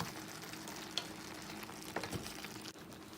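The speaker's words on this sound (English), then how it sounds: "Now we are going to add the zucchini. Stir it in there." Zucchini sizzling in a frying pan with translucent onion, a steady close hiss of frying with a few soft scrapes and clinks as it is stirred in.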